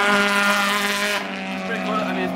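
Cars drift at an AE86 Matsuri event, with a loud engine roar and squealing tires heard from a short distance for a couple of seconds, and a voice talking over it.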